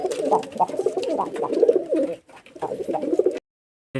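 Rajshahi giribaj pigeons coo steadily and close, a dense run of throaty calls that pauses briefly and then breaks off into silence.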